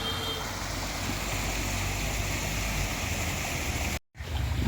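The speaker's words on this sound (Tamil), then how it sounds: "குளத்தில் நீர் இறங்கக்கூடிய சத்தத்தையும் கேட்குறீங்க" Water rushes steadily into Mannappankulam pond in Adirampattinam from the CMP canal, a constant broad hiss with no pauses, cut off by a brief dropout near the end.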